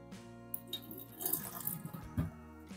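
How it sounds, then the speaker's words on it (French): Hot water drains from soaked prunes into a kitchen sink, a close, gentle trickle and splash with small drips and a brief louder gush near the end. "Je viens égoutter dans l'évier."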